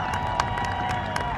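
A crowd applauds and cheers at a Southport, North Carolina celebration of 250 years of the United States, with scattered claps and shouts over a steady murmur of distant voices.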